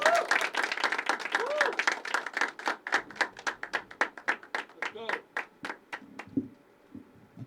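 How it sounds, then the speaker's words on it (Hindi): Applause from a small open mic poetry audience that thins into a few scattered, distinct hand claps before dying out, with someone speaking over the start and again at the end. "आज़ाद जी के लिए, जोरदार तालियां।"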